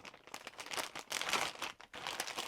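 Serrated knife slicing open a plastic package of solar wiring parts, heard as close, continuous crinkling and tearing plastic for a couple of seconds, with no talking.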